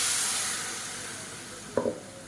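Ground tomato paste for tomato chutney hits hot oil in a pan: a steady hiss of frying throughout, then a short scrape and splatter burst near the end as it is stirred.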